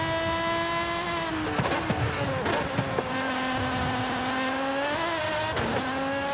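A Mercedes-AMG sports car engine in Forza Horizon 5 holds a high, steady drone, with brief gear shifts and revving bursts and a few tire squeals in between.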